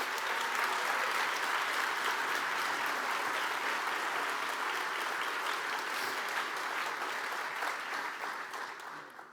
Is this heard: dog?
no